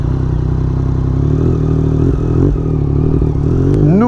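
A 2024 Yamaha MT-09 SP motorcycle with an Akrapovic exhaust idles with a loud, close, throbbing three-cylinder burble, then revs sharply with a rising whine in the final second.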